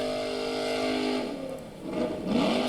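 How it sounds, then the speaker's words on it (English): Race vehicle engines idling and warming up before a hill climb, a steady droning rumble that rises and falls with a brief rev toward the end. "All our contestants are lined up and warming up their engines, getting ready to take on the hill"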